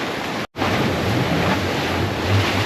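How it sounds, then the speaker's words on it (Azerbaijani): Sea waves roll and crash without a break on a windy day as strong gusts buffet the microphone, loud and close, with one brief dropout partway through. "Bugün hava biraz küləklidir. Dalğa çoxdur."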